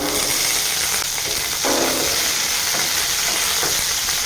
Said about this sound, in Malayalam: നമുക്ക് ഈ കടുക് ഇട്ട് കൊടുക്കാം ഇതിലേക്ക് വേപ്പിലയും മുളകും കൂടെ ഇട്ട് കൊടുക്കാം